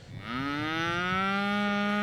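A single cow lets out one long, loud moo that swells after a brief quiet start and holds steady, close by on a dairy farm where cattle graze the pasture.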